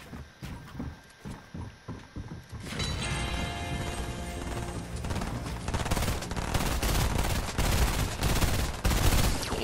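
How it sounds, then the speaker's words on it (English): Rapid video game gunfire, sparse bursts at first and then a dense, loud, continuous barrage of shots and crashes that fills most of the stretch. "And I'm getting shot."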